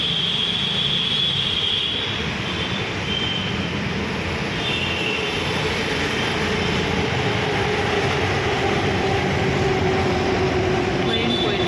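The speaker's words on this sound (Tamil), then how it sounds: "ட்ரெயின் போயிட்டு" A metro train runs past on MG Road in Bangalore, a continuous rumbling roar with a high-pitched whine from the cars, steady and fairly loud over the street ambience.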